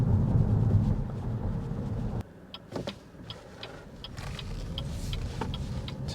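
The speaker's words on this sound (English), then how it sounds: "Bit of a rumble on these concrete roads." A 2024 BYD Atto 3 electric SUV rolling over concrete road, with a steady low road rumble and tyre roar inside the cabin, dipping briefly before settling back to an even drone, punctuated by faint clicks.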